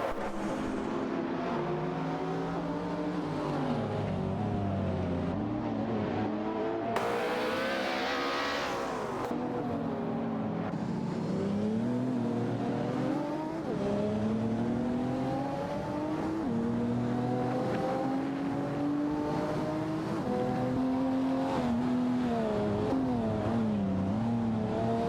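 Video game AI racing with a Lamborghini Huracan dueling another car at close quarters: continuous loud engine drone, pitches rising and falling through gear shifts and accelerations, with a brief burst of tire or wind noise early on.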